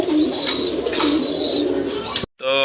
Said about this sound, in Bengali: তো রেড চেকার কবুতর এক জোড়া, অনেক বড় সাইজের কবুতর